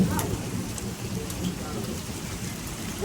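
Rain mixed with pea-sized hail during a Kansas storm at night. It makes a dense, continuous patter on surfaces with occasional sharper hits and a low rumble underneath.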